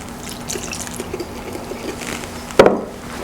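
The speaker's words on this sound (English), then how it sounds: "And then add the rest of your water." Water poured into cake batter in a home kitchen, a brief liquid splash and pour near the end after a quiet stretch, close and fairly loud.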